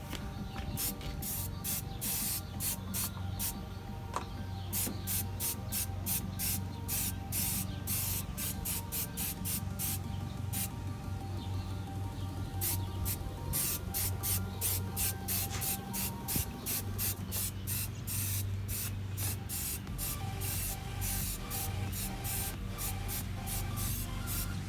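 Detailing dressing is sprayed over the hoses, plastic and metal parts of a BMW engine bay in rapid, repeated close spritzes, a dense rhythmic series of short hissing pumps continuing throughout.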